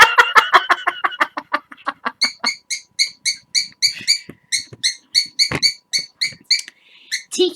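A pet bird sings a long run of rapid, repeated chirping notes, close and loud, with a steady rhythm of bright phrases and a short pause near the end.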